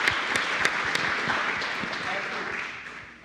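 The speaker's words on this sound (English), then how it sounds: "So, round of applause for everybody," A church congregation applauds new members, a dense, fairly loud round of clapping that fades gradually over a few seconds.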